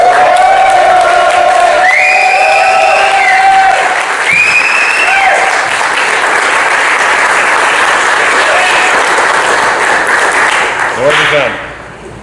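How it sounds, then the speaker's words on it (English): An audience at a Warhammer 40K tournament event applauds and cheers loudly for a long stretch, with whoops and shouts rising over the clapping. Near the end a few voices carry over the applause as it fades. "I want to hear you guys scream and shout and just give a huge thanks to Beta"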